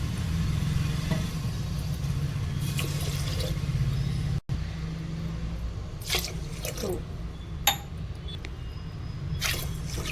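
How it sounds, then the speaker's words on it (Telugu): Water poured onto washed rice in a cooking pot, a steady splashing pour running throughout at close range with a few brief clinks of utensils, no talking. "వన్ అండ్ హాఫ్ గ్లాస్కి ఫోర్ గ్లాస్ వాటర్ వేసుకోవాలి"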